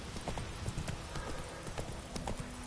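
Roach, a horse in The Witcher 3, trots along with steady clip-clop hoofbeats close by, a continuous rhythmic patter over a dense game soundscape, with a faint whinny mixed in.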